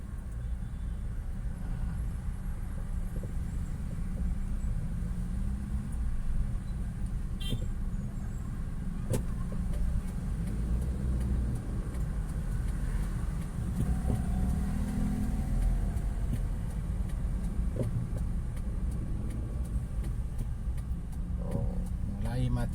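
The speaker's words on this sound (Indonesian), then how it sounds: "Oh, mulai macet" A traffic jam on an Indonesian road, with a continuous rumble of car, bus and truck engines and occasional short horn toots, while a voice talks over the traffic.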